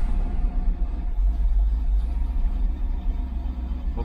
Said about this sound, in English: Okay, so it started, but it's misfiring.